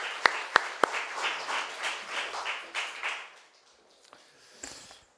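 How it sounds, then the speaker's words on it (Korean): A church congregation at Sunday worship breaks into a steady round of applause, opening with a few sharp close claps before a wash of many hands that fades away, moderately quiet overall. "하나님 앞에 감사의 박수, 영광의 박수 올리겠습니다"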